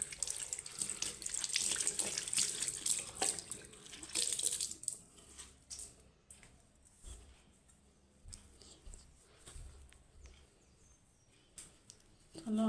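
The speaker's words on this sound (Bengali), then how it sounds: "জামাটা ধুয়ে নিই।" Tap water runs steadily into a sink as a shirt is washed by hand, loud at first and then dropping to quieter splashes and trickles.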